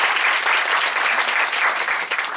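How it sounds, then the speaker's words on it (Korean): Audience applause welcoming panelists at a Korean baseball-related panel event, featuring guests from LG Twins and NC Dinos: a dense, steady burst of many hands clapping, loud and close, with no talk over it. "큰 박수로 환영의 박수 부탁드리도록 하겠습니다"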